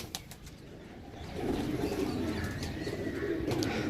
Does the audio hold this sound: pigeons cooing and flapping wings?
yes